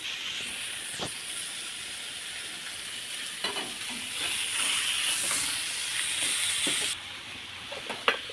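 Onion and curry leaves fry in hot oil for a Maharashtrian bitter gourd dish, giving a bright hissing sizzle that swells midway, with sharp stirring clinks throughout and a louder knock at the end, no talk.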